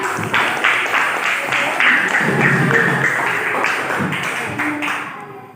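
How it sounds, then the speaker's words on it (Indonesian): A classroom group receives a round of hand clapping from classmates, a dense patter of many claps rising quickly, holding steady for several seconds, then thinning out and fading toward the end. "Tepuk tangan untuk kelompoknya."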